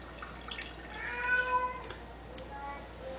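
A house cat meows during a home-brewing session in a kitchen, a couple of faint, drawn-out mews over a low background hiss, with a few soft clinks nearby.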